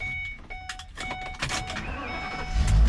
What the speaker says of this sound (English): I'm gonna back the U-Haul right up to the back of that truck